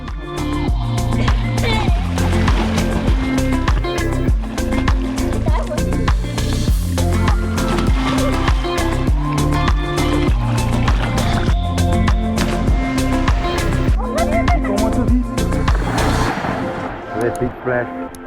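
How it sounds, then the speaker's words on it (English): A car drives over concrete poles spanning a river on a campsite track in South Africa's Cederberg, making a steady series of loud, hollow clunks, one after another, close by. "when you drive over them, they make this amazing clunking sound with the water running underneath of them"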